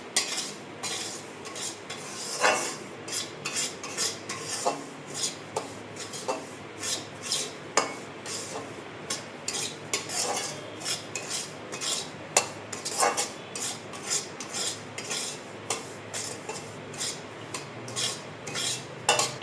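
A spoon stirs grated coconut filling for gujia in a pan, giving steady scraping and rubbing strokes with light clinks of metal on metal, close and continuous with no voices.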